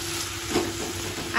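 Masala with tomatoes fries in a pan, giving a steady close sizzle with faint stirring underneath, brief and without voices.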